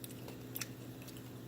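Quiet close-up chewing and crunching of cooked bacon in a home kitchen, a few soft bites over a faint steady background hum, with no talk.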